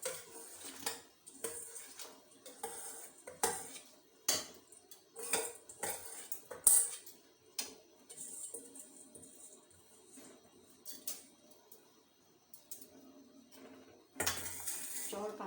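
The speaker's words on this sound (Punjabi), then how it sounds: "ਆਪਾਂ ਚੌਲਾਂ ਨੂੰ ਚੰਗੀ ਤਰ੍ਹਾਂ ਵਿੱਚ ਹਿਲਾ ਦੇਵਾਂਗੇ" Rice stirred into boiling milk in a pot for kheer, with repeated clinks and scrapes of a spoon against the pot and soft bubbling, close by, with a louder burst of clatter near the end.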